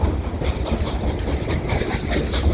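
A train rolls along the rails at steady speed, a continuous loud rumble with rhythmic clickety-clack of wagon wheels over the track joints, close by and with no talking.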